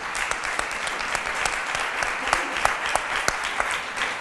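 An audience at a talk on Israeli start-ups gives a standing round of applause, with dense, steady clapping and sharp individual claps popping out near the listener, continuing evenly with nobody speaking.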